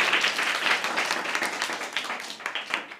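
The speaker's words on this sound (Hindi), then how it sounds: "सही है, बजा दीजिए फिर तालियां।" Classroom applause at a government school quiz session, students clapping together for a correct answer, a dense, steady patter of many hands that stays close and moderately loud throughout.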